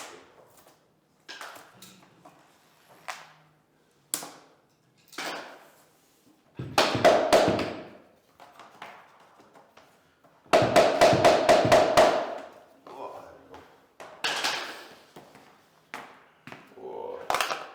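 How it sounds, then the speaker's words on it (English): Vinyl plank flooring being hammered into place during a DIY install, with loud bursts of rapid repeated knocks, including one run of about eight quick blows, between casual conversation. "you're hammering me"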